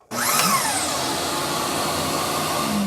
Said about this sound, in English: the vacuum gets turned on.